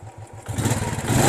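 A Royal Enfield Bullet engine is revved with the throttle, opening from a lumpy idle into a louder, rising roar with a rapid, uneven thump, close by and alone.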